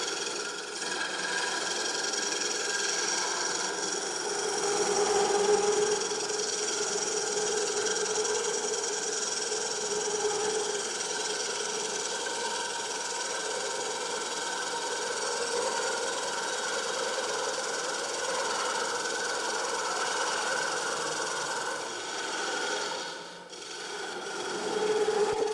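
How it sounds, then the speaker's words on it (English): A chisel cuts into a shallow wooden platter spinning on a lathe, giving a continuous raspy scraping hum that holds steady for a long stretch, with a brief dip near the end and no talking. "I'm just cutting on the side, opening it up, experimenting, twisting a little bit"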